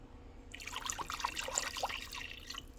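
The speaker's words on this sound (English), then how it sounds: "Let me add some more milk." Milk is poured into a pan of thickening béchamel sauce, a soft liquid trickle and splash lasting a couple of seconds, close and fairly quiet.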